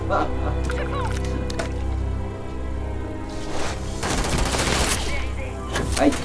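Gunfire in the video game Starfield, dense bursts of rapid shots and impacts over layered game sound and music, with a voice talking through the fight.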